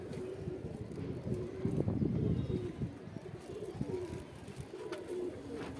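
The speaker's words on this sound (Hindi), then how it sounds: "देसी कबूतर, कोई पंजाबी नहीं।" Male and female desi pigeons coo softly and repeatedly in a low, rolling rhythm, with a louder burst of cooing in the middle, against light wind and faint background chirps.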